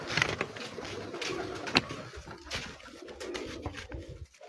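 Pigeons coo on a rooftop, low soft calls blended into a busy outdoor wash of wind, rustling and scattered clatter, fairly close but partly masked.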